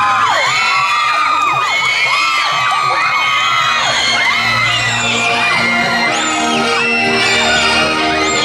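A loud crowd at a Loy Krathong festival Nang Noppamas pageant screams and cheers continuously, with high-pitched shrieks and whoops rising and overlapping throughout.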